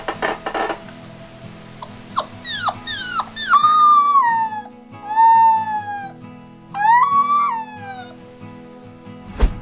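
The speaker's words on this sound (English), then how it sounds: "an adorable golden retriever puppy as it serenades you with its sweet and endearing howls" A young golden retriever puppy howling, a series of drawn-out wavering howls with rising and falling pitch, clear and close, broken by short pauses and a few brief yips at the start.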